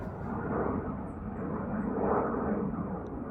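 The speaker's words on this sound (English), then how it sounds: "There's a high-flying plane." A high-flying airplane passes overhead, heard as a steady broad low rumble and roar that swells slightly and then holds, distant and continuous with no talk.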